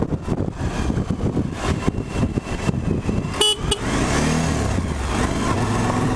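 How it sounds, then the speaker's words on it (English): 2018 Suzuki V-Strom 1000 motorcycle engine pulling hard out of a corner, a loud rough revving drone with fluttering wind noise that settles into a steady roar, heard from the rider's position with no talking. "But this still shoots out of the corners like my 2005. It's got a lot of nice grunt."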